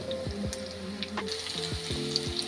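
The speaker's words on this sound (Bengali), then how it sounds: "এইভাবে আমাদের ভেজে নিতে হবে" Small shrimp kebabs crackle and sizzle steadily in hot oil at close range, with a soft hiss under scattered pops and a faint tonal hum in the background.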